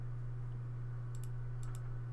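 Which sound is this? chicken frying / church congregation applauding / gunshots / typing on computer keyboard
typing on computer keyboard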